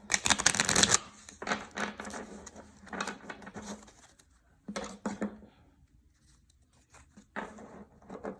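Playing cards are shuffled in several bursts, a loud riffle at first, then repeated quicker ruffles and pauses, close by with no talking.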